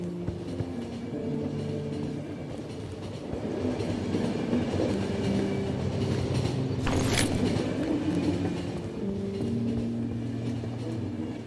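A train rumbles continuously in the video game The Final Station, a steady loud rolling drone with faint clattering and one brief sharp clank near the middle, no talk.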